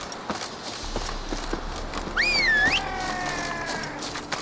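Horse hooves clip-clop at a steady pace in The Witcher 3 video game, with a short high whinny in the middle; faint rhythmic footfalls continue under a quiet background.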